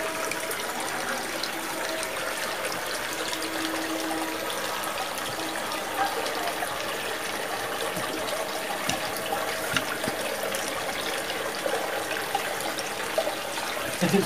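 Water pouring and splashing steadily into the purification basin at Candi Sumberawan temple, a constant bright rushing gush at moderate distance with no pauses, running alone without talking.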